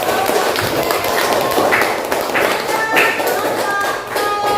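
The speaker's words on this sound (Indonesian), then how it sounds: "Oke, tepuk tangan dulu" A classroom of pupils claps together in a religious education lesson, a busy patter of hand claps with taps and thumps, and voices talking over it.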